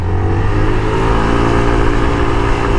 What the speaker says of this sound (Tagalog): Rinig na rinig mo talaga galit yung engine, pag pinupull throttle mo siya.